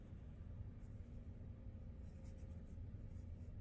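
A watercolor pencil moves across paper in a continuous line, giving a faint, soft scratching that runs steadily without pause in a quiet room.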